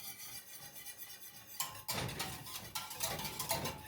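A spoon stirs syrup into a dairy-free vanilla berry dessert mixture, scraping and clinking against the bowl in quick repeated strokes after a quiet opening, close and fairly soft, with no voices.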